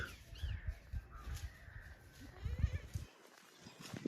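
Goats bleating outdoors in the background, several faint cries scattered over steady low rumbling noise, with no voice over them.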